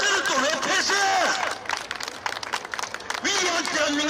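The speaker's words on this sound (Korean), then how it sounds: "박수 한 번 보내주세요" Outdoor rally crowd at Gwanghwamun protesting a Chinese-character signboard breaking into a burst of clapping, between stretches of a man's amplified speech before and after.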